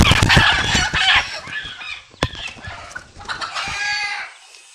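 Several hens cluck and squawk close by on a poultry farm, perched on bamboo, busy overlapping calls with a sharp knock midway, no talking.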